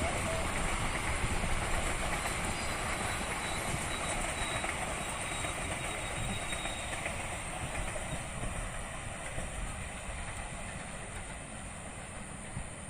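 The Malabar passenger train rolls past near a large mosque in Bandung, a sustained loud rumble of wheels and carriages with steady rail noise filling the whole stretch.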